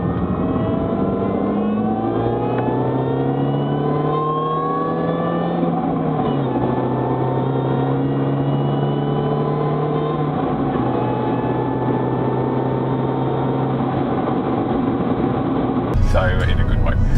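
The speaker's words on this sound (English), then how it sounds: "Didn't know what the supercharger noise was." Supercharged Mini GP engine droning steadily while driving, a whine rising and falling through the gears under continuous road noise, with people talking over it inside the cabin.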